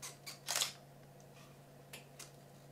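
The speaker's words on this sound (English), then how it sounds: "A little bit of motor noise." Faint, soft whirring bursts of a camera lens autofocus motor, a few short buzzes and clicks over a low electrical hum, heard up close with no talking.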